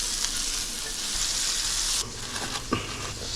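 Sausage fries with garlic as it is broken up in a pan, making a bright crackling sizzle that drops in intensity partway through, punctuated by a sharp scrape or knock.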